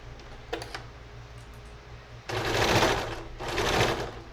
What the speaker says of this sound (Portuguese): Ó, como é que costura fácil, corre fácil em cima do papel.